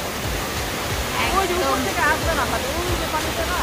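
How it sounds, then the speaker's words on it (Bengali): A mountain waterfall sprays down with a constant broad roar that stays close and loud throughout, while faint voices are heard beneath the rush of water. "ঝর্ণার অবস্থা দেখাই"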